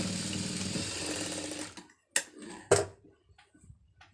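A sewing machine stitches a round neckline, running in a steady close whir for a short stretch before stopping, followed by a few sharp clicks and soft handling noises.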